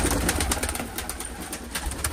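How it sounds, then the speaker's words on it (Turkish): Pigeons leaving their loft give a quick burst of wing flaps and soft coos close by, busy and fluttering, with no talking. "Burayı bilen kuşlarımız çıkıyor zaten."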